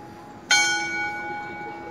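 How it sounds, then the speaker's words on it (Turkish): A church bell in Prague's Old Town strikes once with a bright clang, its tone ringing on and slowly fading against a quiet outdoor background. "Çanlar çalıyor."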